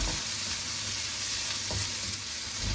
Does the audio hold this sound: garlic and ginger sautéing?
yes